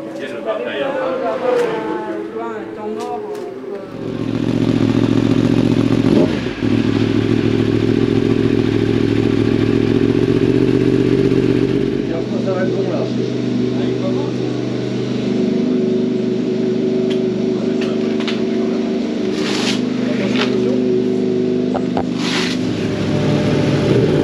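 A Superbike racing motorcycle at the Alès final, its engine starting up and then running loud and steady nearby with shifting revs, rattles and clunks, while a voice talks over it.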